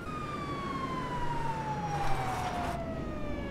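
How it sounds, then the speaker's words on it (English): Police sirens wail in GTA 5, a steady siren tone with harmonics gliding slowly downward as the vehicle passes, loud and continuous over background game noise, with no talking. "Why do I hear sirens?"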